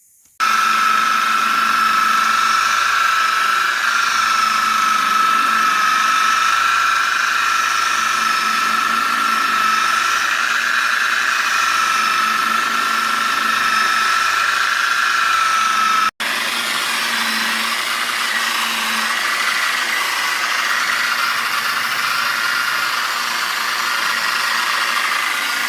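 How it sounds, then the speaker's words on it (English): A power polisher runs steadily on a headlamp capsule with polishing compound, a loud, continuous whirring drone that holds for the whole stretch with one brief dip partway through. "Alright, so we're done polishing this headlamp capsule."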